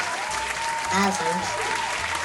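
Short round of applause at home during a what's-in-the-box challenge game, steady and fairly close, with voices talking over the clapping.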